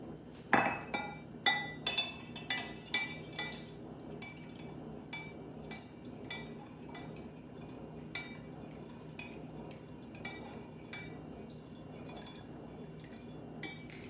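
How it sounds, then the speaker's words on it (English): A spoon stirs honey into a ginger decoction, ringing against the glass in a quick burst of bright clinks at first, then settling into sparser, softer taps. The sound is close, with no talking. "we're gonna stir the honey into our decoction here"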